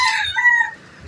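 A rooster crows once, close and loud, a short rising then falling call in a rural province setting.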